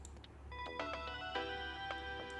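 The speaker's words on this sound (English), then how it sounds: "Male ringtone." A phone ringtone from the video game Steins;Gate plays a short, quiet melody of bright, steady tones over a low background hum.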